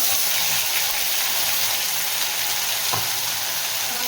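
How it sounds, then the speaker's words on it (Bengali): A ground spice paste of onion, ginger, garlic, tomato and green chilli fries steadily in hot oil for a soyabean kofta curry, giving a continuous loud sizzle with a single stir or clatter near the end. "এই সময় আমি এই বেটে রাখা মশলাটা দিয়ে দেবো পেঁয়াজ আদা রসুন টমেটো কাঁচা লঙ্কা"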